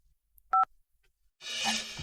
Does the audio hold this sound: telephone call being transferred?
yes